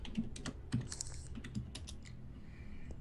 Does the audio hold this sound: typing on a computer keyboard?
yes